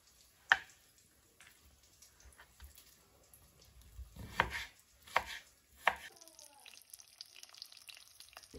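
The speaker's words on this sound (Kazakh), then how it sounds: "Барлығын бірдей көлемде турап аламыз." A knife chops animal heart and fat into equal pieces for kuyrdak in a quiet kitchen, with a few sharp, well-spaced thuds on the board and faint background noise between them.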